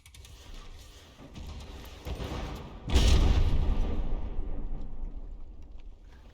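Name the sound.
missile fire and explosions in video game From The Depths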